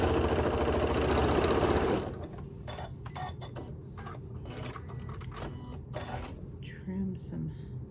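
A sewing machine runs steadily for about two seconds while stitching down a rag quilt block cut as a 12-inch AccuQuilt block, then stops, leaving quieter handling noises and faint room sounds.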